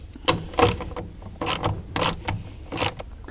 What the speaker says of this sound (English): hold this motor while I take the last bolt out